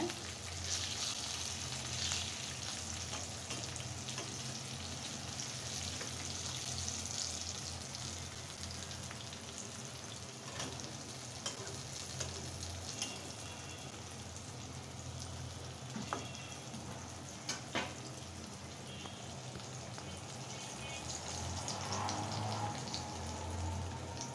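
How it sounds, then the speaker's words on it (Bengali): Eggplant slices with a green chili fry in hot oil, giving a steady, dense crackling sizzle with occasional sharper pops throughout. It is close and moderately quiet, with no talking. "দেখতে পাচ্ছ আমার বেগুন ভাজাটা হয়ে গেছে"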